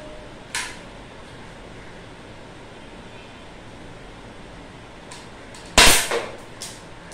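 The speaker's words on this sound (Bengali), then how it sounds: "এই বন্দুকের মধ্যে গুলি ভরা আছে, আমি তাও দেখাচ্ছি, ক্যামেরার মধ্যে গুলিটা মেরে দেখাচ্ছি।" A toy M40 sniper rifle fires a pellet once near the middle, a sharp, loud snap over steady background hiss, with a few fainter clicks from handling before and after.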